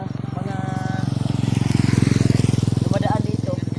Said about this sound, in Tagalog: Yan tol, may mga motor dito tol.